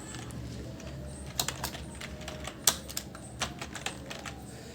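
Keys clatter on a computer keyboard as a name is entered into an online form, a quiet, irregular run of light clicks close by with no talking.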